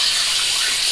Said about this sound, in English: I poured most of the water out